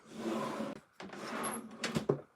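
A wooden drawer in a woodcarving workshop slides open and is rummaged through, giving two rubbing, scraping bursts with a short gap between, then a few sharper knocks and clatters as the contents are shifted close by.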